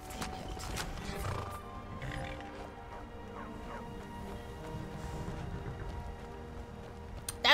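Horse hooves clop across a wooden dock in Skyrim with a hollow knock, steady and close, over a low ambient game soundscape; no talking.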